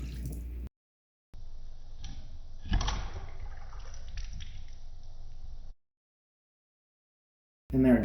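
An ice ball drops into an old fashioned cocktail made with maple syrup, giving a short, close splash and clunk followed by brief liquid sloshing in the glass, with quiet moments before and after.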